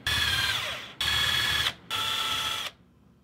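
A power drill bores into a wooden lamp base in three bursts, each about a second long with brief pauses between, loud and close, with a steady high-pitched whine.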